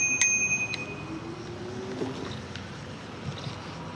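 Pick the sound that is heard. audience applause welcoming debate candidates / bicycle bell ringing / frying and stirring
bicycle bell ringing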